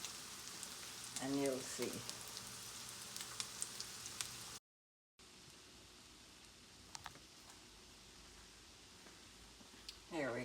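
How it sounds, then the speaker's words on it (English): Salmon burger patties frying in a pan on a medium stove, a soft steady sizzle running throughout at low level, with a person talking briefly near the start. "So my stove is on medium right now. And we're going to fry these up."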